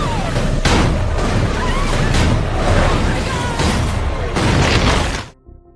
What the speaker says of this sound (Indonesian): memerintahkan letnannya untuk menembakkan meriam tanknya